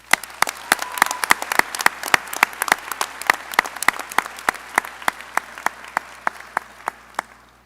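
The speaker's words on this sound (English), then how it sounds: "but let's give him a round of applause." An audience at a medical school hooding ceremony in Milwaukee claps in a short burst of applause, a fairly sparse, distinct run of individual hand claps rather than a roaring crowd, with no talk over it.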